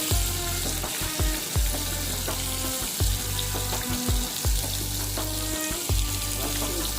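Oil sizzles and crackles loudly in a pan, steady and close, with clanks of a utensil against metal every second or so.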